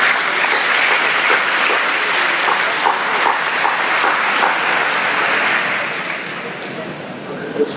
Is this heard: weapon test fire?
no